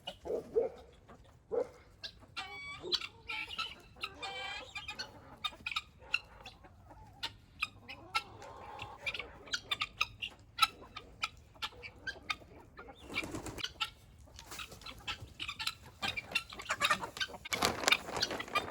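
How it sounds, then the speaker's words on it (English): Chickens cluck and squawk in bursts while being chased around a farmyard, joined by a rooster, guinea fowl and a dog barking, the calls scattered and overlapping in irregular flurries. "Alrighty, first thing first, gotta chase the chicken."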